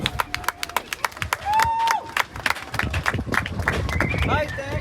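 A small scattered round of clapping from a handful of people aboard a sailing boat during a night regatta to Ruhnu, sharp uneven claps mixed with voices, wind and deck noise.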